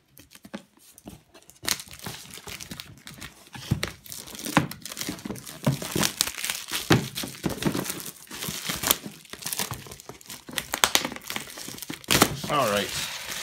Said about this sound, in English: So let's cut this plastic